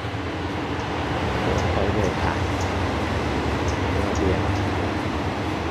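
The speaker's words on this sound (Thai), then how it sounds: "นี่เป็นเสียงรถไฟครับ" A continuous low rumble of a passing train fills the scene, with a brief voice speaking over it.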